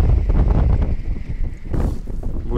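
Wind buffets the microphone on a fishing trip in Astrakhan, gusty low rumbling and rushing that rises and falls throughout, with a brief lull midway.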